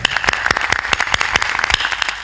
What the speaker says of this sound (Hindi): जोरदार तालियां बज जाए।